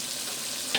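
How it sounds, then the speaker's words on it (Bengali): Yardlong beans sauté in a pan for a Bengali-style mixed vegetable dish with shrimp, giving a steady, close frying hiss with a brief louder burst near the end and no voices. "আমি বরবটিটা কিছুক্ষণ কষাই নেব"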